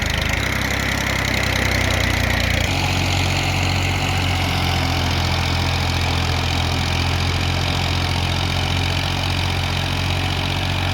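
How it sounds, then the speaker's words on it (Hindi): A TAFE 30 DI tractor pulls a rotavator that is dug into the soil during tillage. Its diesel engine drones steadily and loudly with a deep knocking throb, close and continuous, with no talk over it. "रोटावेटर बिल्कुल फर्स्ट क्लास चल रहा है"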